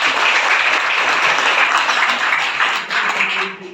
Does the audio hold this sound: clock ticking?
no